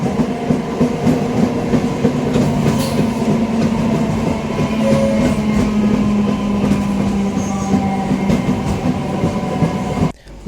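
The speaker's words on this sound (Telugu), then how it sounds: "ఒక నిమిషం హాల్ట్ తర్వాత మన ట్రైన్ రంగారెడ్డిగూడ రైల్వే స్టేషన్ నుంచి బయలుదేరింది" A MEMU train pulls out of Rangareddyguda railway station, heard from inside as a steady, loud rumble of wheels on track with faint clatter, before the noise cuts off at the very end.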